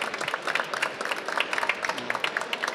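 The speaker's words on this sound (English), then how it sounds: "Can I first get an applause for our speakers?" A modest audience claps for the speakers after a talk on sustainable buildings, a fairly quiet, scattered patter of individual claps lasting a few seconds.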